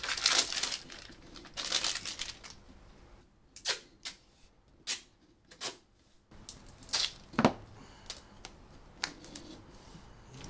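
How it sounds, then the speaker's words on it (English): Tape is wrapped around the end of a tube for a homemade solar viewer. It makes a series of short, close crinkling and crackling bursts in a quiet room. "wrapping the tape around the end of the tube."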